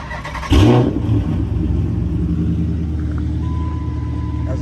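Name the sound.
Dodge Challenger SRT 392 Scat Pack engine starting and revving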